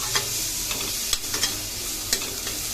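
Ingredients for a masoor dal dish frying over a high gas flame, a constant sizzle broken by a few sharp spatula scrapes and taps against the pan.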